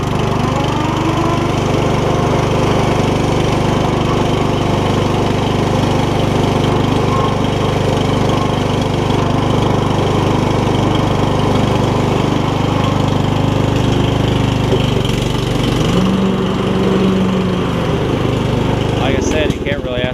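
A riding lawn mower's small engine runs steadily and loudly as the mower is driven along, a constant droning hum filling the whole stretch without letup.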